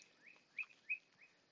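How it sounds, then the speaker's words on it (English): Faint, distant bird chirps come in a few short high calls spaced a fraction of a second apart. "Oh, I hear those birds."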